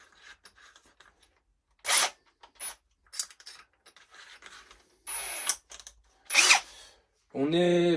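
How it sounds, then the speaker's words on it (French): An AEG power drill fitted with an 8 mm bit whirs in several short bursts separated by pauses, with a longer run near the end as it bites into the material, close by and fairly loud. "On est parti pour le perçage."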